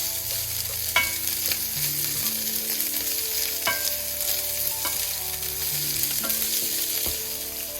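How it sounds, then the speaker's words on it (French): Green beans stir-frying with garlic and ginger in a hot pan, a steady bright sizzle with occasional clinks and scrapes of stirring, close and continuous without talk. "On ajoute les haricots verts. Et on remue bien."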